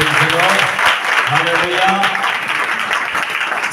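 Congregation clapping steadily through a Christian prayer meeting in a church, with continuous rhythmic applause beneath a voice leading worship.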